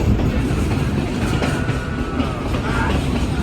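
A vintage heritage train runs along the Zig Zag Railway in Australia, a steady close rumble with soft rhythmic wheel clatter that continues throughout without pause.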